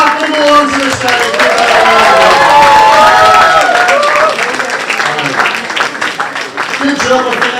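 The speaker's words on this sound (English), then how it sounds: "Keep clapping them all onto the stage." At a comedy gong show, an audience claps and cheers as performers are called onto the stage: dense, loud applause mixed with whoops and shouting voices, sustained throughout and easing slightly toward the end.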